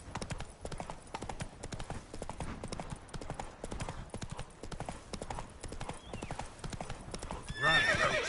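Roach the horse gallops in The Witcher 3, a steady rapid clip-clop of hooves running throughout, ending with a brief neigh.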